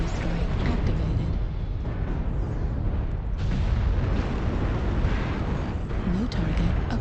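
Continuous dense rumbling explosions from an artillery strike in the mech combat game MechWarrior Online, loud and sustained with overlapping booms and no pauses.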